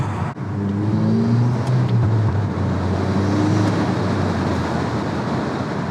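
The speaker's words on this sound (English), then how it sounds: "The turbo noises are for real." A 2022 Volkswagen Golf R MK8 fitted with an MST Performance open air intake drives on the street. Steady, loud engine and turbo rush with road roar continues unbroken throughout, with no voices.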